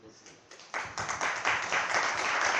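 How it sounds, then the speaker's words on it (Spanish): Applause swells from scattered claps into a steady, dense round of clapping from a crowd at a book presentation. "Un fuerte aplauso"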